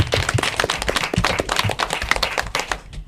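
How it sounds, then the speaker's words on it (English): A crowd of students and spectators claps in sustained applause after an elementary school academic quiz match, dense overlapping hand claps filling the room at steady loudness before thinning out at the end. "Give yourselves a round of applause."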